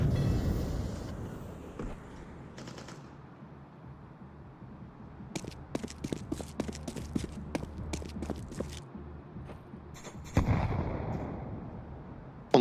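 Flashbang grenades bursting in the video game Counter-Strike 2, sharp cracking pops with rapid clusters of snaps and a loud burst near the end, heard over a quiet low background.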